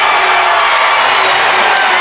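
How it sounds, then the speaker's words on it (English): A basketball crowd on the Northwood side erupts in loud, sustained cheering and whooping at a 3A men's regional final, a dense roar holding steady from start to finish with voices mixed in. "the Northwood crowd behind us absolutely erupts"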